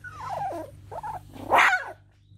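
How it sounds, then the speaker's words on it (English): Young puppies with newly opened eyes make a few short, close growls and whimpering yips in three bursts, the last one loudest, with no voices. "they're growling and barking"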